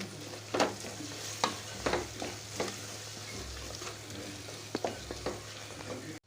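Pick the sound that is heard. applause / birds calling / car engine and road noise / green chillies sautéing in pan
green chillies sautéing in pan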